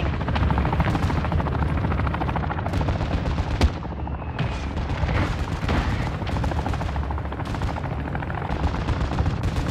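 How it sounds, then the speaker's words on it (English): An enemy chopper gunner helicopter in Call of Duty: Modern Warfare III thunders overhead with a constant rotor roar, layered with rapid bursts of heavy gunfire and a few booming impacts, loud and continuous throughout. "Enemy chopper gunner incoming."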